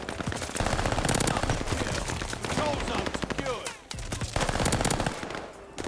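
Rapid bursts of Armaguerra 43 submachine gun fire in the Call of Duty: Vanguard video game, loud and continuous with brief pauses between volleys, close up in a chaotic multiplayer match.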